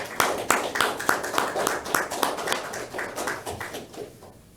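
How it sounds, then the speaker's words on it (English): A small group claps during a police deputy welcoming ceremony, with sharp, distinct hand claps in a fairly sparse, uneven rhythm, moderately close and fading near the end. "do a round of applause and welcome Chris here to us"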